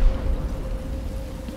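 Steady rain patters inside a building in a video game, a continuous soft hiss over a low rumble with a faint constant hum, with no voices.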